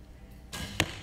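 An arrow strikes the target during an under-21 indoor world championship archery match, a single sharp thud standing out over a steady crowd and hall ambience.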